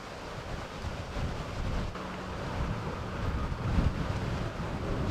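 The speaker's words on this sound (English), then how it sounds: "Look at that wind ripping." Strong wind whipping across an outdoor disc golf course at a professional tournament, a steady, rumbling gusting roar buffeting the microphone throughout, with no clear speech.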